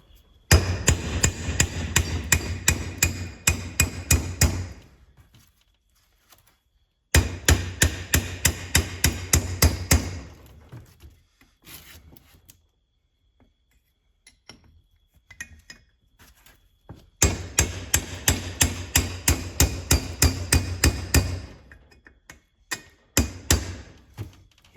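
A hammer strikes a chisel on the water pump of a 1941 Farmall M tractor in three loud bursts of rapid, sharp metallic blows, with short pauses and a few scattered taps between them.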